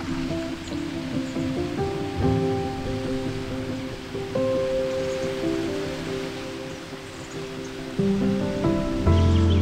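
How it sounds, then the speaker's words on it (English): A waterfall rushes in remote Australian wilderness, a steady broadband roar of falling water that stays loud and continuous, with faint tonal bird calls on top and no talking. "Wow, see the waterfall?"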